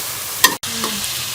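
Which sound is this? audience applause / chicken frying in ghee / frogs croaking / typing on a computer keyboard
chicken frying in ghee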